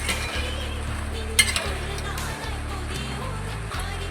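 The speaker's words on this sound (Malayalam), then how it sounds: "നമ്മളിനി ഓരോന്നായിട്ട് എണ്ണയിലിട്ട് വറുത്തെടുക്കാം" Small rice dough balls for kaliyadakka drop one by one into hot oil, giving a low steady bubbling and sizzle with an occasional clink of a utensil against the pan.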